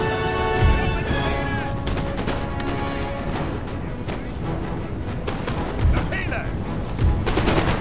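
Musket volleys in the video game Napoleon: Total War: a dense crackle of massed shots rolls on continuously, with a few deeper booms and heavier cracks among them.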